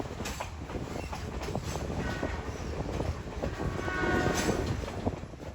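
A heritage passenger train on the Great Smoky Mountains Railroad in North Carolina rumbles and clatters steadily over the tracks, with rhythmic wheel clicks and a brief horn-like tone, at moderate distance.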